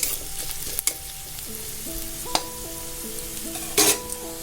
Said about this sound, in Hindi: अभी देखिए प्याज थोड़ा थोड़ा भुनना शुरू हो गया है